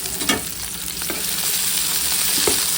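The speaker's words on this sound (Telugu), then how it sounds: "ఇవన్నీ కొంచెం గోల్డెన్ కలర్ వచ్చేంత వరకు మనం వేయించుతూ ఉండాలి" Sliced onions and green chillies fry for biryani in a pan, giving a steady close sizzle broken by several scraping stirs, with no talking.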